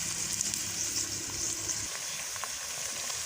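Close, steady hissing sizzle of onions browning in a pan for fish curry, with faint stirring ticks and no voices.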